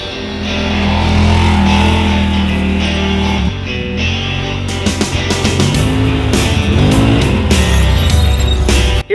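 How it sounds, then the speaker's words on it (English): A pit bike revs and drives around a muddy track, its small engine droning loudly and steadily with shifting pitch as it accelerates and eases off, close to the listener throughout. "We're gonna check out the pit bike track, drive around, get a little muddy"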